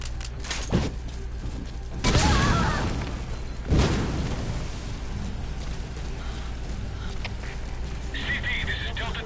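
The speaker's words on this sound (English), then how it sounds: "There was an explosion." A loud explosion in the video game Metal Gear Solid V, with a sharp blast early, then two heavy booming bursts that roll off into rumbling ambience, a distant tone near the end.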